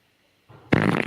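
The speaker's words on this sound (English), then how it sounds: "How often am I going to use a fart drop?" A fart sound-effect drop fired off during a live talk show, a short soft rumble swelling into a loud, wet, sputtering blast of about half a second that ends abruptly.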